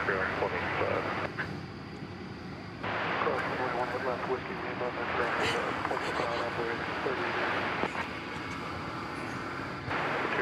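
A propeller airliner at Dallas Fort Worth airport runs steadily and loudly for the whole stretch, its broad drone rising and dipping slightly as it moves, with no talk heard over it.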